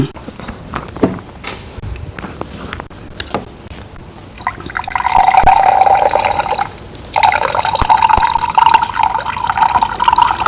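Water soaked with curry leaves is poured through a filter, giving a steady trickle and splash that grows louder midway and keeps running to the end, with a brief pause.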